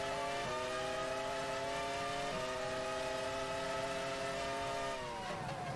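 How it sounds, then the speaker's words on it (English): A Formula 1 car engine races in the F1 Challenge 99-02 game at the 2003 British Grand Prix, a loud, continuous high-pitched whine that holds its pitch with small stepped shifts before dipping near the end. "the engine sounds louder this season"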